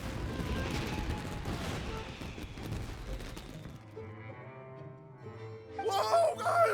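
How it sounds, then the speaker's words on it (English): Fireworks burst in Genshin Impact, a dense stretch of crackling, booming explosions filling the first half, then a quieter lull with music before another bright crackling burst near the end. "Yoimiya, this is turning into a bit of a fireworks display."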